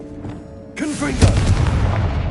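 A Confringo fire spell in Hogwarts Legacy strikes with a sudden loud explosive boom, followed by a rumbling, crackling burst that tails off over a second or two, with a brief voice nearby.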